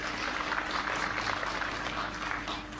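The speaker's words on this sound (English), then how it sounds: "And people are clapping" Crowd applause at a political gathering in Uganda, a dense steady wash of many hands clapping continuously at moderate loudness, with a faint low hum underneath and no clear voices.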